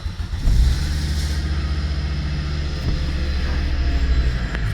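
A 1995 Volvo 850 Turbo engine cranks and catches, then settles into a steady, close idle hum with a faint whine.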